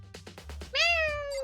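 A cat meows in the Danganronpa video game, a clear, drawn-out tonal meow after a few soft rhythmic taps, close and alone.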